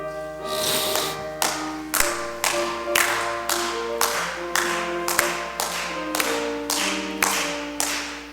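A church congregation at an early-morning prayer service claps hands in a steady beat while singing a hymn, the claps landing about once a second under the singing and organ.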